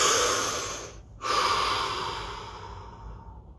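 A deep breath during a guided relaxation session: a long airy exhale, a short pause, then a slow breathy inhale that fades out, close and alone.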